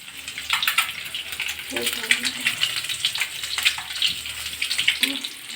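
Egg fritters fry in hot oil in a home kitchen with a continuous loud sizzle and crackle. A low voice is heard faintly underneath the frying.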